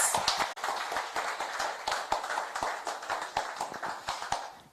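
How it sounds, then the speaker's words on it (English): A smaller audience claps for a panel of speakers, individual claps standing out in an uneven, fairly close rhythm that stays lively for several seconds. "I think we can give them another round of applause"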